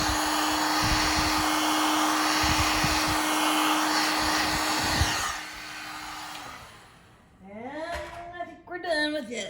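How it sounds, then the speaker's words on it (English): A heat gun blows a loud, steady broadband roar for about five seconds, then cuts off and winds down while a voice starts talking over the fading hum. "The heat gun."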